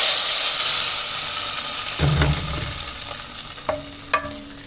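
A hot tempering of garlic, large chillies and cumin hits a pot of dal with a sudden close sizzle, followed by a fading hiss and a few sharp clinks of a spoon against the pot.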